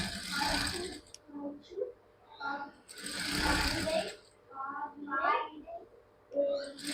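A sewing machine stitches a school uniform churidar in short mechanical bursts, nearby and moderately loud, with someone speaking between and over the runs.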